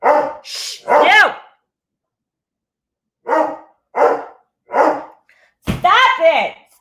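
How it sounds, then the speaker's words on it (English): A dog barks loudly and close by in bursts, a cluster of three barks, a pause, then three more and a final pair, with a person speaking briefly between them. "What are you barking at?"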